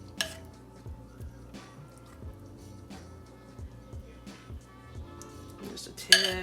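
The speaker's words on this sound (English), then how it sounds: "I'm going to spoon it out because I don't want to mess up my measuring." A spoon scooping an ingredient out of a container for a slow cooker dinner, soft repeated scrapes and taps with a sharper clink near the end, close and quiet, under occasional talk.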